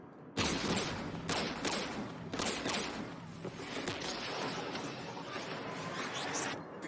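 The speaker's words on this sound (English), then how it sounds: "We're taking fire." Dense Mass Effect 3 firefight with overlapping weapon fire, sharp repeated bursts and shots crackling loudly and continuously across the whole stretch.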